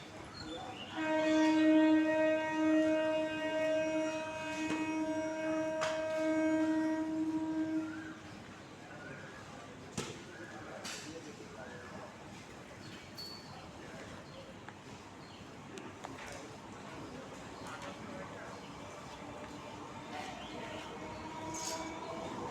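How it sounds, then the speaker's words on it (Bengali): A train arriving at a station at dawn, its horn blaring loudly for several seconds, then rumbling wheels and clatter continue at a distance, with birds and faint voices in the background. "ট্রেন ঢুকছে"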